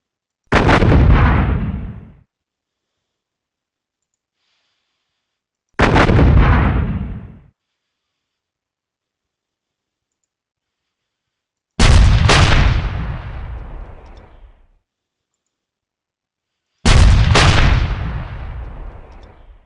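Artillery fire in the Panzer Campaigns Budapest 45 war strategy game: four loud, separate booming blasts, each with a short decaying tail, spaced several seconds apart with silence between them.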